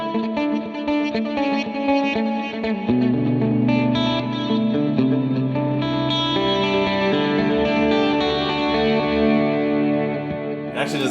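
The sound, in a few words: electric guitar through reverb effect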